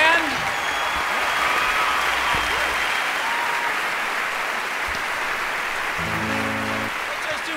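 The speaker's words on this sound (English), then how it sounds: "Applause for the band." An audience applauds a band, dense sustained clapping that stays loud throughout and tapers slightly at the end, with a few musical notes and voices briefly showing through.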